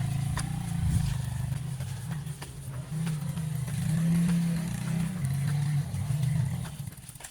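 A motorcycle engine runs steadily along a rough, risky dirt road, a continuous low drone that swells and dips, close and fairly loud, with no talk.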